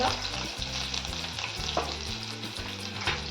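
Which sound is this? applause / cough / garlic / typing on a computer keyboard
garlic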